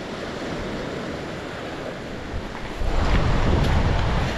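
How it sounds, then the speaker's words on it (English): Loud ocean surf on Treasure Island Beach, Florida: a steady, broad wash of breaking waves mixed with wind buffeting the microphone, swelling louder toward the end, with no voices. "the surf is really loud"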